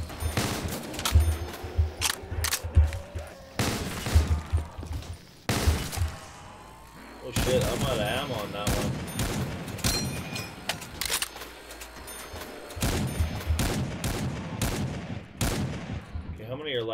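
Rapid gunfire from Black Ops 3 zombies mode on a custom FNAF 2 map as zombies are shot, with loud bursts of automatic fire and single shots broken by short lulls.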